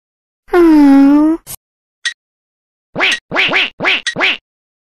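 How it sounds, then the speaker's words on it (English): Cartoon ducks quack in a children's story of the Ugly Duckling: a long drawn-out wailing quack, then a brief pause and a rapid run of five short nasal quacks, loud and close with no talk. "Grandfather Duck heard all the quacking and went to see Mother Duck."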